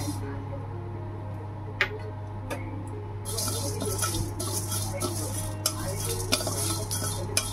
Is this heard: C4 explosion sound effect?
no